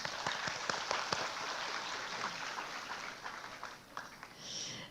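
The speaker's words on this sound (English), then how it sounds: "One round of applause for yourselves." A seated audience claps together in a brief round of applause, a dense patter of hand claps that thins and tapers off within a few seconds, heard from within the hall.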